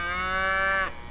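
Calf on a French farm gives a single sustained, loud, tonal moo close by, holding steady for nearly a second before breaking off abruptly.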